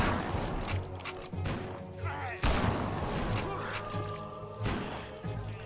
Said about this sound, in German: Oh, guter Schuss, Otis.